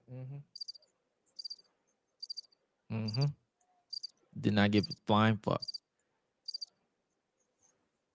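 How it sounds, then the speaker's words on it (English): Sparse bursts of cricket chirps, quick high trills repeated every second or so, sound between stretches of someone talking loudly in the foreground. "Where's the crickets?"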